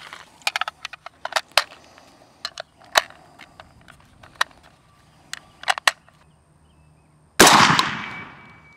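Shots from a PSA Sabre AR-15 rifle firing personal protection rounds at a range: a rapid string of sharp, fairly distant cracks spread across several seconds, then one much louder, closer blast with a brief decaying tail.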